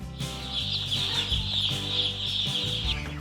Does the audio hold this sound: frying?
no